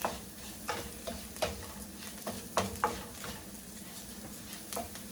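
Red chili pepper flakes tossed in a hot pan while cooking mushroom risotto, giving a steady low sizzle broken by a handful of sharp scraping and stirring clicks spaced irregularly across the clip, close and fairly quiet with no talk.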